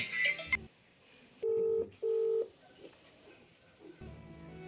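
A phone call plays out in short bursts. A brief electronic chirp comes first, then two sustained tone pulses about half a second apart, then quiet, then a low murmur at the end.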